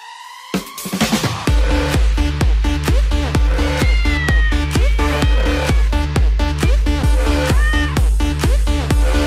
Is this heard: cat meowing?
yes